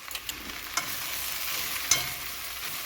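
Okra sizzles in a hot oil tempering as it is stirred, a steady close crackle with a few sharp spoon scrapes and taps against the pan.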